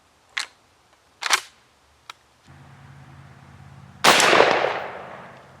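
A 12-gauge shotgun with a full choke fires a number 6 Winchester Super X Upland small game 2 3/4 inch shell, giving a loud, sharp blast with a spreading echo after a few clicks and handling sounds.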